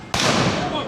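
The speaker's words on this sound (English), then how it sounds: "For the cannon she be a mite loud, and the gunner's aim be a mite poor." A ride cannon fires aboard Disneyland's Sailing Ship Columbia, a single sudden loud boom that hits hard and then rolls on into a long, roaring decay.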